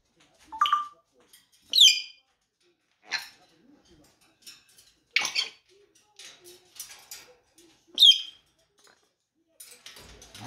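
A small pet bird gives scattered chirps and short whistles, sharp and close, separated by near silence.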